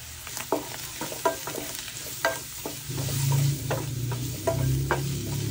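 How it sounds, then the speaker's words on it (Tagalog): Onion and mushroom with paprika powder and pepper sauté in a pan for Maharlika luncheon meat, a steady close sizzle broken by a spatula scraping and stirring every second or so, with no talking. "Ngayon ta na maggisa, sibuyas, mushroom, paprika powder, paminta, konting cornstarch"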